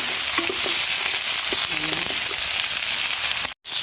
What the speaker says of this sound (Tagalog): Lagyan na natin yung chicken. Ayan, o, diba? Gisa lang natin.